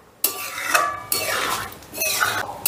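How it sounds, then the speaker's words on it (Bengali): A spoon stirs ghee and garam masala into mashed lentils in a metal pot, making a few scraping and clinking passes, close and fairly quiet. "এবার ঘি আর গরম মশলাটাও একটু মিশিয়ে দিচ্ছি"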